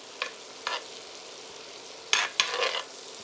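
Garlic, butter, onions and rosemary cooking in a pan at medium heat, a quiet low sizzle broken by a few short bursts of stirring and scraping, near and otherwise calm.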